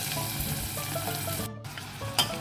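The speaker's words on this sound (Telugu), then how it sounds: "ఉల్లిపాయ పచ్చిమిరపకాయ కరివేపాకు వేసుకొని వేగించుకోవాలి" Sliced onion, green chilli and curry leaves fry in hot oil, giving a steady, close sizzle that holds through the clip with only a brief dip near the middle; no one speaks.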